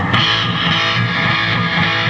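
An electric guitar played through a Randall amp with a delay effect, a sustained, thick distorted tone with echoing repeats smearing the notes together, steady and loud with no talking.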